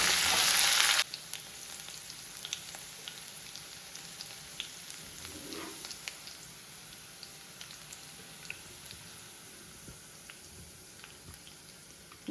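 Ginger and green chili fry in a pan for curd idli tempering, a brief loud burst at the start settling into a steady, faint sizzle with light scattered crackles.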